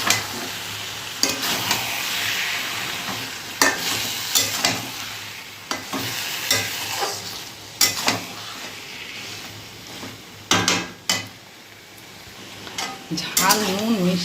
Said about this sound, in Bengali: চলো এবার ভালো করে নেড়ে দিই।